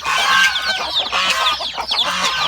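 Chickens clucking and squabbling while fighting, a steady run of agitated fowl calls heard close with no talking.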